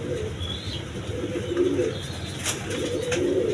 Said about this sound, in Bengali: বন্ধুগণ এখানে এক পেয়ার অরেঞ্জ চিলা কবুতর আছে, দুইটা বাচ্চা সহ।